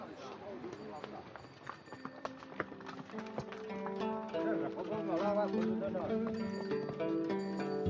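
Horses' hooves clip-clop along a mountain trail in China's Yulong Mountains during equestrian tourism, a steady rhythmic clatter under music and a speaking voice.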